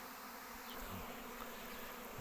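Dense, steady buzzing of many honeybees swarming close by, a continuous droning hum with no voices.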